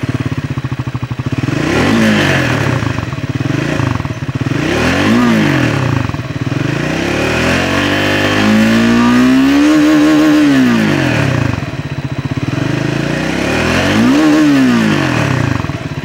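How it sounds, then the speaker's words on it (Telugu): A 2024 Triumph Scrambler 400 X motorcycle blips its twin-barrel exhaust in several loud, close revs that rise and fall over a steady idle, with no one speaking. "ఇప్పుడు ఈ వెహికల్కి సంబంధించిన ఎగ్జాస్ట్ సౌండ్ అయితే విన్నాము"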